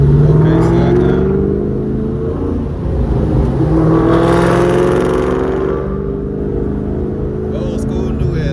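A modified 2004 Ford Mustang Cobra making about 515 wheel horsepower roars through an acceleration pull, its loud engine note climbing steadily and then dropping, heard from inside the car.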